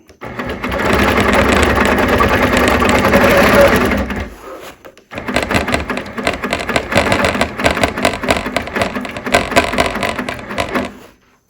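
Sewing machine stitching fabric, a loud steady mechanical whir that runs continuously, pauses briefly, then resumes in a rapid rhythmic chatter close to the microphone.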